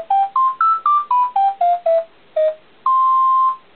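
Default town tune from Animal Crossing: Wild World playing as an alarm, a loud, clean series of short electronic beeping notes stepping up and down in pitch, ending on one longer held tone, with no voices.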